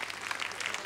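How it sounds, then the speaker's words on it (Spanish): Faint, distant applause from a television studio audience during a Spanish-language variety show look-alike contest, a brief even patter of many hands. "Un aplauso para el número 8."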